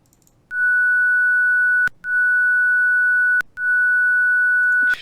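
Original fall sound effect from the PC video game Penumbra: Overture, three long identical steady electronic beep tones, each ending in a sharp click, separated by brief gaps, loud and alone.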